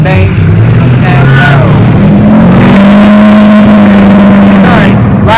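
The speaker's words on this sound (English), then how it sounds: "sorry, loud truck." A loud truck rolls past on a town road in Palmer, Alaska, its heavy engine drone rising and holding close for several seconds before easing off, with a voice speaking briefly over it.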